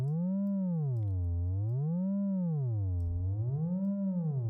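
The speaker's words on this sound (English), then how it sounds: "now you can hear some reverb on our sound, giving it some depth and space" A synth pad built in Reaktor drones with space reverb, its pitch sweeping slowly up and down in a smooth wavering cycle of rich harmonics, sustained and alone.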